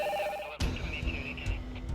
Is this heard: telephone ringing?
yes